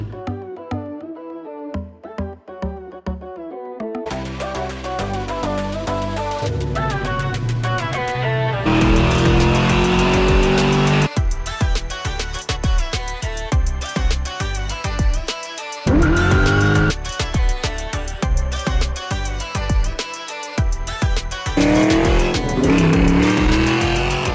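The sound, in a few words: small block Ford drag car engine with Holley Sniper EFI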